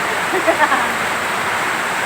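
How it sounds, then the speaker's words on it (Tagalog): Steady heavy rain pours down as a dense, unbroken hiss, with a few brief voice-like sounds near the start. "Grabe, ang ulan dito sa amin ngayon, guys. Malakas talaga ang patak ng ulan."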